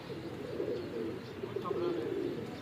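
A pigeon coos softly in a rooftop loft setting. The low, faint cooing runs steadily for a couple of seconds under faint background murmur.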